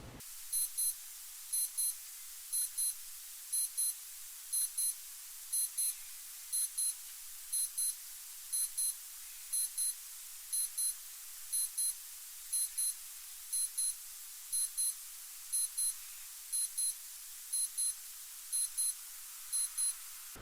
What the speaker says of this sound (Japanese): もう一回アラームをセットしましょう